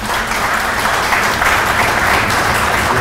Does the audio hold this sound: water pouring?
no